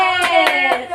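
A group of children chant the 'tepuk salut' clapping rhyme in a classroom, their sung voices running continuously under four regular, rhythmic hand claps.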